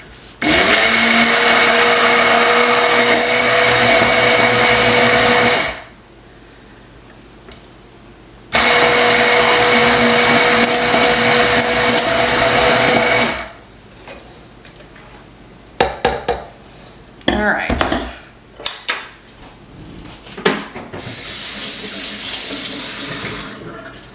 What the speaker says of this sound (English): This little container actually goes with my immersion blender.